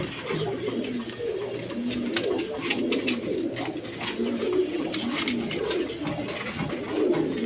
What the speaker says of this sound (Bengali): এখানে একটা বোম্বাই নর কবুতর আছে দেখেন